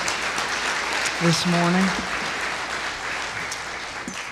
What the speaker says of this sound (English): give her a round of applause for being here